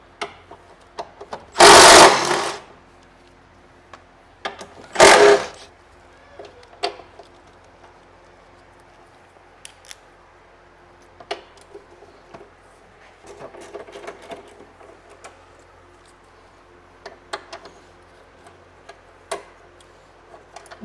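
Removing the three 14 mm bolts of a passenger-side engine mount on a Honda Element or CR-V: two loud, short mechanical bursts close by, followed by faint, scattered ticks and clicks in a quiet setting.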